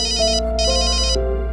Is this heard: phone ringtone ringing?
yes